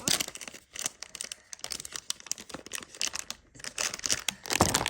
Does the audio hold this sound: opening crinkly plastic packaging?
yes